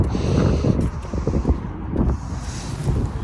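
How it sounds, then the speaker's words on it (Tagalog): Gusty wind buffets the microphone outdoors in Calgary, Canada, with a steady low rumble and roar, rising and easing slightly, with no clear voices. "Ang hangin dito sa labas."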